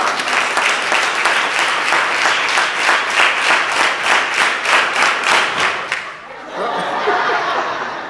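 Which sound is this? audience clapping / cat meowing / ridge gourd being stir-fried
audience clapping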